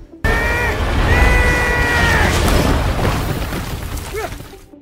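A loud sudden explosion bursts in, blasting open a hidden underground tomb, followed by a sustained rumbling roar with shrill cries and debris noise that gradually fades.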